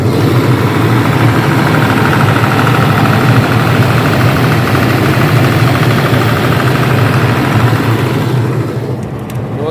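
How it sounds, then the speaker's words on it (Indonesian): A Nissan six-cylinder diesel engine runs loud and steady, driving a Stamford 125 kVA generator for a sound system at a celebration event. It holds a dense, even rumble throughout and eases off slightly at the very end. "yang ini pakai Nissan diesel ya. Nissan diesel untuk mesinnya yang 6 silinder."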